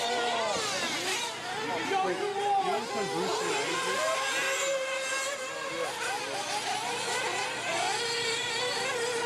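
Racing RC cars at the USRC 2022 event at Dakota Slidewayz make high, whining electric motor pitches that rise and fall as the cars throttle around a dirt track, heard under a commentator's continuous play-by-play.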